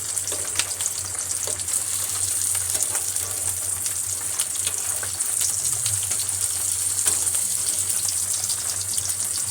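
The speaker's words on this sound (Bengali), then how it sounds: "এটা সিম আঁচ করে আস্তে আস্তে ভাজা হতে দেব।" Fish roe fritters (bora) fry slowly on low heat in a pan, a continuous soft sizzle with occasional small crackles and a faint steady hum underneath, no voices.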